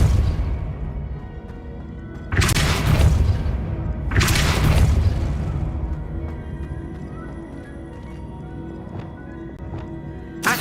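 A Depulso spell cast in Hogwarts Legacy, landing as two loud, broad whooshing blasts a couple of seconds apart, each with a booming low thump, followed by a fading rumble over a steady ambient game background.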